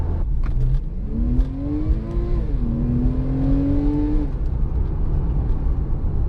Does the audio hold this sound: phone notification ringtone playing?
no